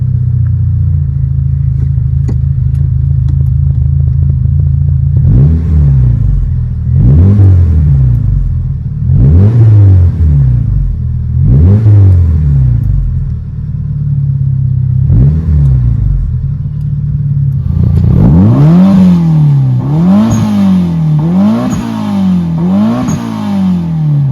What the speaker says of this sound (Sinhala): දැන් අපි බලමු මේ වාහනේ එක්ස්හෝස් සවුන්ඩ් එක කොහොමද කියලා.